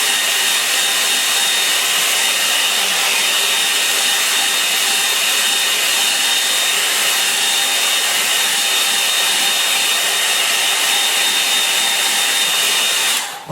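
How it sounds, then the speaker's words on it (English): A hair dryer blows steadily on a watercolour painting, a loud, continuous breathy whir that runs unbroken for the whole stretch before cutting off at the very end, with no talking over it. "when that dries off a little bit, with a bit of help from the hair dryer"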